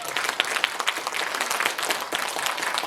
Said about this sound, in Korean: 박수 한번 맞춰주세요.